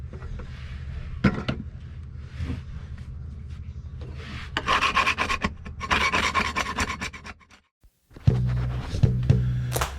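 Repeated hand scraping on wood, rasping strokes in uneven bursts with short pauses and a brief silent gap before louder, closer scrapes resume; no talking.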